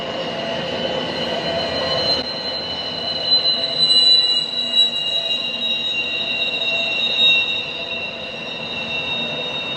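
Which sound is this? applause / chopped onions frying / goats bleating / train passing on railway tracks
train passing on railway tracks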